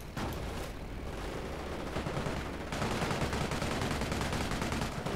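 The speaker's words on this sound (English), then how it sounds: "Decrews the 17-pounder with the mortar barrage." Mortar barrage and gunfire in the Company of Heroes real-time strategy game: dense, continuous crackle of rapid shots and booming impacts filling the whole stretch, loud and unbroken with no talk.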